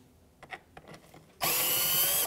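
A power screwdriver whirs for about a second, backing Phillips head screws out of the front bumper center grille trim on a 2007-2013 Mitsubishi Outlander, after a few faint handling clicks.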